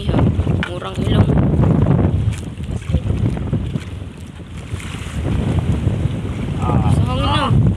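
Strong sea wind buffets loudly against the microphone aboard a boat, with waves washing in gusting surges and voices briefly audible beneath the roar.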